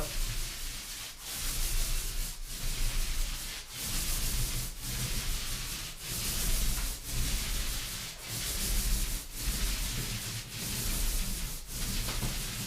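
A half-inch nap roller spreads paint across a sealed drywall wall in a steady rubbing swish, with regular strokes about every second and a brief dip between passes, close and clear with no talk.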